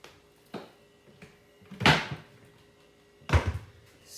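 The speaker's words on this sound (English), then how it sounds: "I'm in here slamming cabinets" Kitchen cabinet doors slam shut during meatloaf cooking, three separate thuds with a faint one first and two louder bangs about a second and a half apart, close and alone.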